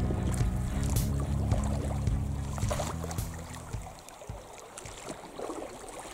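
A calm, narrow stretch of the Bazaikha River flows past two rafting boats with a soft, close trickle and gurgle of water, mixed with faint knocks of the boats and a steady hum that fades midway.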